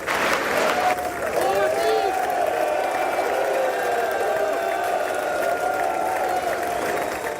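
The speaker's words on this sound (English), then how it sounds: "The Prime Minister walked into loud cheer and applause as lawmakers welcomed him." Lawmakers in the US Congress cheer and applaud as a visiting prime minister enters, a loud sustained wash of clapping and whoops from a packed chamber, with a few voices rising above it.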